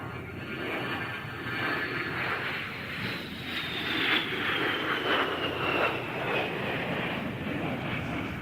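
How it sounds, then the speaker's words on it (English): An A-10 Warthog jet with twin turbofan engines flies an aerobatic display at an air show, giving a loud, steady roar with a rising and falling whine as it passes. No voices are heard. "The A-10's turbofan engines add more than just power to its performance"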